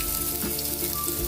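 Chopped garlic and onion frying in hot oil for chicken afritada, giving a steady close hiss and crackle without pause.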